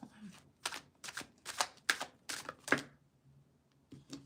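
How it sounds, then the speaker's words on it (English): A deck of tarot cards side-shuffled in a series of quick, crisp riffling bursts, about six in a row, then a pause and one more, up close. "Guess I'll do the side shuffle."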